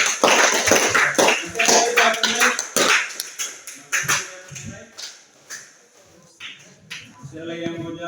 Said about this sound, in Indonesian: Tepuk tangan untuk Maria.